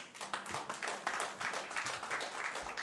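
Applause rises from the public gallery at a city council committee meeting, following a speaker's remarks opposing Kinder Morgan: dense, steady clapping from a roomful of people, fairly close and continuous.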